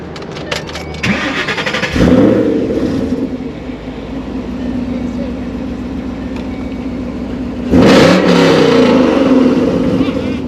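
A Ford GT500's V8 engine with long-tube headers, about 700 wheel horsepower, cranks and fires up around two seconds, settles into a deep rumbling idle, then a loud rev swells near the end.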